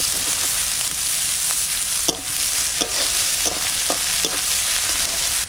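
Onion, cumin and dried chilli frying in hot oil in a wok for fish curry, a steady loud sizzle with sharp scrapes of stirring at irregular intervals.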